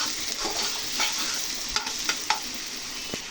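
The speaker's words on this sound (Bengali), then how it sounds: "এখানে আমি পেঁয়াজ কাঁচামরিচ আর রসুন দিয়েছি এটাকে ভালোভাবে লাল লাল করে ভেজে নিব" Onion, green chili and garlic fry and get stirred in a pan for a fish bharta, giving a steady soft sizzle broken by a few sharp scraping clicks from the spatula, close up with no talk.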